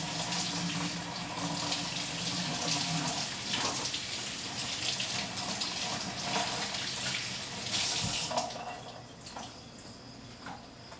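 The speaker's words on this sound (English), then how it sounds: "I'm just going to run a little cold water over it just to clean up the meat that's inside" Cold water runs steadily from a kitchen faucet over a crab being rinsed, a continuous close splashing hiss with small clatters, easing slightly in the last few seconds.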